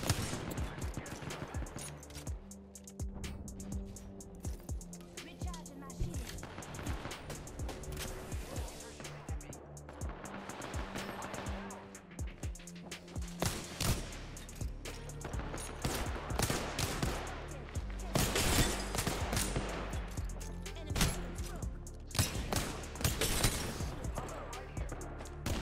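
Apex Legends match with repeated bursts of automatic gunfire and sharp impacts scattered across the whole stretch, mixed with other game noise and some voices.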